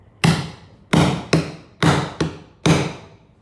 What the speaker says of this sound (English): You can hammer it.